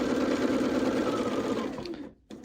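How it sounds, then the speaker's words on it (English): A sewing machine stitches quilt bat block pieces, its motor humming close and steady at speed for about two seconds before slowing and cutting out, with a brief restart at the end. "Put my foot pedal down and sew."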